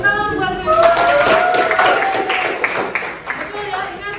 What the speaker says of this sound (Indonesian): Oke, tepuk tangan buat Reza.